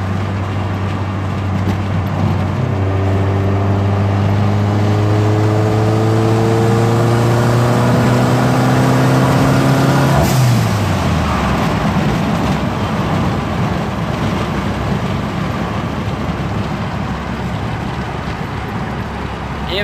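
Mercedes engine revving after a fuel pump install and FuelTech tune, a steady loud drone that climbs in pitch then drops sharply before settling into a rough sustained run, close and continuous.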